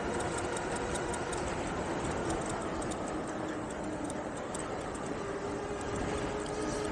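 An ENGWE Engine Pro e-bike riding under throttle in 8th gear at around 35 to 36, giving a steady, continuous drone of motor hum and rushing wind and road noise that holds level throughout, with no talking.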